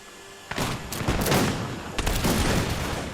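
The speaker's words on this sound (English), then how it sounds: "So these mounted Jaegers are in range, so they should be firing now." Mounted Jaeger cavalry firing muskets in Napoleon: Total War, a ragged volley of overlapping gunshots starting abruptly then a second burst, dense crackling fusillade at mid distance with no talk.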